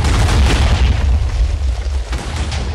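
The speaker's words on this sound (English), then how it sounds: "holy shit, more fireworks?" Fireworks bursting in Minecraft, a run of deep booming explosions that rumble and overlap into one another, loud and continuous for the full stretch without voices.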